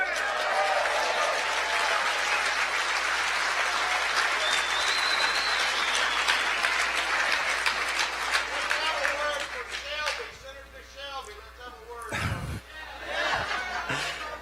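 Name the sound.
crowd at a Bannon rally in Alabama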